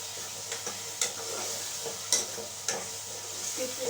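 Tomatoes frying in a pan on a home stove, a steady soft sizzle with several brief stirring scrapes and clicks spread through, no talking.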